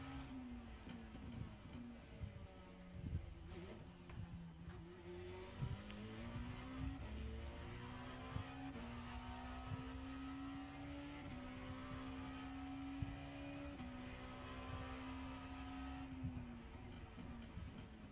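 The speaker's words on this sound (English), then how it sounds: "Faster car coming up quick." Race cars in iRacing roar past in a steady stream, engine tones climbing and sweeping as faster cars close in and overtake, loud and continuous with no talk over them.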